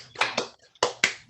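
Middle school students applaud over a video call, producing a few sparse, uneven hand claps in two short bursts. The claps sound close and thin, with gaps of near silence between them.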